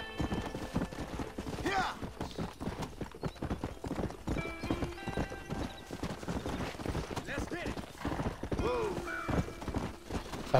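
Horse hooves clip-clop in a steady trotting rhythm as a rider travels Old West terrain in Red Dead Redemption, with occasional whinnies and someone talking over the hoofbeats.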